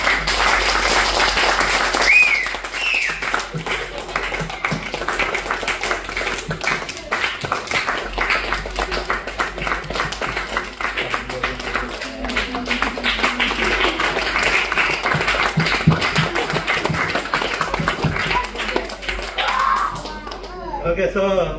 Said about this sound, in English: So when you guys are clapping, sound waves are forming and it's vibrating.